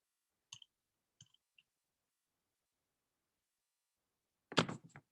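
A computer mouse clicks three times, crisp and close in a quiet room, followed a few seconds later by a louder brief rustling thump.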